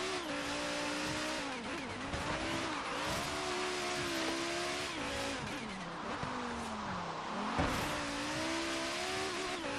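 Racing cars roar through Forza Horizon 3, engines revving and shifting pitch continuously with tire squeal and skids, a loud, steady wall of motor noise across the whole stretch.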